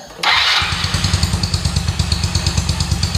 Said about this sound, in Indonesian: ini coba kita hidupkan mesinnya ya, apakah error apa tidak